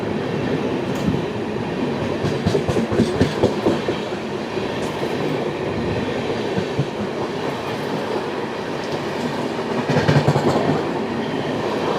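Inside an AC chair car of the 22953 Gujarat Superfast Express running from Vadodara to Ahmedabad, a steady loud rumble carries rhythmic clickety-clack of wheels over rail joints, swelling slightly near the end.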